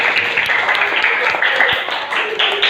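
A classroom of students claps together on request, a dense, steady patter of many hands sustained throughout at close range with no talk over it.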